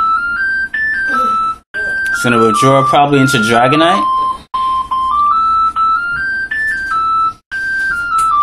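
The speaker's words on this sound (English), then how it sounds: "Oh, somebody's calling the house." A house phone rings repeatedly in a rhythmic electronic trill across the whole stretch, fairly loud, while someone talks over it in the middle.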